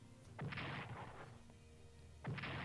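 Tactical bombers striking the city of Chungking in the World War II strategy game Strategic Command: World at War: two distinct booming impact blasts about two seconds apart, faint and distant, with no talk.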